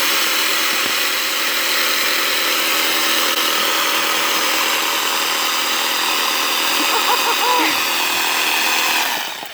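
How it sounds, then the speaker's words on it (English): Jigsaw cutting through a giant courgette, a continuous close buzzing motor whine with a steady blade rasp that holds for most of the clip and then stops. "maybe I should try and jigsaw it."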